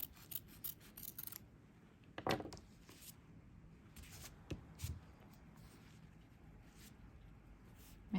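Scissors trimming away fabric for an Easter bunny kisses pillow, a series of quiet, close snipping and rustling sounds in irregular bursts.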